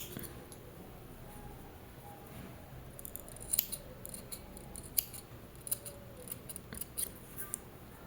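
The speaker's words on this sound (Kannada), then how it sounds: "ಈಗ ನಮಗೆ ಕುಚ್ಚು ಲೆಂತ್ ಎಷ್ಟು ಬೇಕೋ ಅಷ್ಟನ್ನು ನೋಡಿಕೊಂಡು ಥ್ರೆಡ್ನೆಲ್ಲ ಕಟ್ ಮಾಡ್ಕೋಬೇಕಾಗತ್ತೆ" Scissors snip through thread for baby tassels, a run of faint, quick, close clicks over a soft hissing background.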